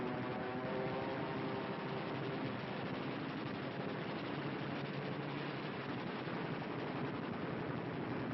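Machine gun strafing in a World War II documentary on the Red Army's advance: continuous rapid rattling fire mixed with aircraft roar, muffled and lo-fi, held at constant level for several seconds.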